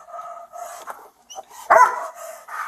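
Police dog barking during a bodycam search of a hotel, several loud, close barks and yips in short irregular bursts with brief gaps between them.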